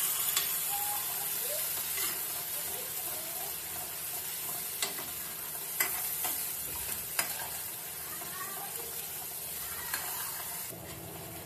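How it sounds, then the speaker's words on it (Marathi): Masala paste with red chilli powder sautéing in a pan for hotel-style matar paneer, a steady close sizzle under occasional scraping stirs and soft clicks, no talk. "हे पेस्ट चांगली परतवून घ्यायची आहे आपल्याला"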